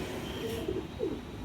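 An Andhra pigeon cooing close by, two or three short soft low coos in quick succession over a faint background hush, with no speech.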